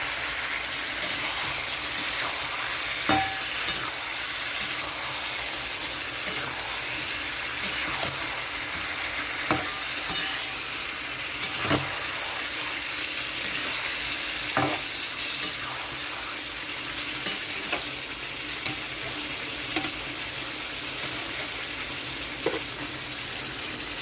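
Boiled eggs fry in a curry masala with potato and ridge gourd in a pan, giving a continuous low sizzle broken by occasional sharp scrapes and taps of a spoon over about twenty seconds.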